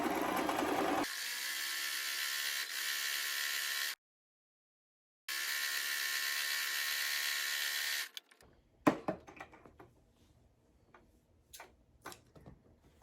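A sewing machine stitches a shalwar in two long steady runs of about three and four seconds, split by a short pause. Sparse handling clicks and taps follow, with no talking.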